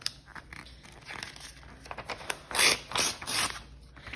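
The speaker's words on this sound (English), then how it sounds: "I am just going to tear these very carefully" Paper calendar pictures carefully torn apart by hand, a string of crisp ripping and crinkling bursts that grow louder toward the middle, with no talking.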